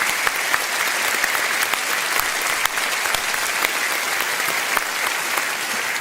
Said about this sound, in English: Just a round of applause for them before we move on.